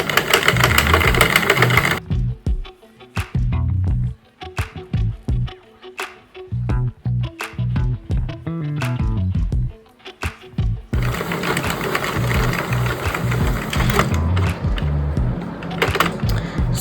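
Sentro knitting machine cranked by hand to knit rows, producing rapid rhythmic plastic clicking and clattering in quick bursts with short pauses, close and fairly loud, no voices.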